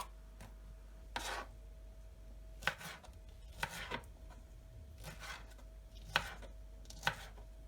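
A knife chops fresh strawberries on a board in a quiet kitchen, with about six or seven separate crisp cuts and soft scraping between them at an uneven pace.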